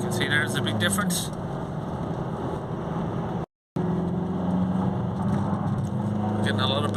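On a private-road test drive, a Vauxhall Opel Insignia 2.0 CDTI diesel with a turbo boost fault drones steadily from inside the cabin, broken by a brief dropout midway, with faint chatter at the edges.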